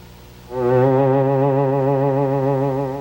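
A loud, sustained electronic tone from an antenna-played instrument swells in and holds with a gentle wavering vibrato, rich in buzzy overtones, playing alone.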